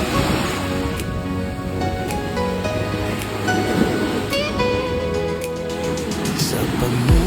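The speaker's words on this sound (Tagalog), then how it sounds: "panoorin lang natin kung paanong humampas ang alon dito" Ocean surf washes steadily onto Hinugtan White Beach in Buruanga, Aklan, in a continuous broadband roar, with a few faint clicks and thuds nearby.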